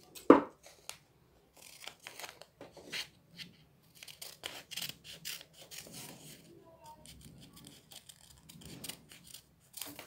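Scissors cutting fabric for a short kaftan-style dress: soft, irregular snips and rustling cloth close up, with one louder knock at the start and quiet background sounds.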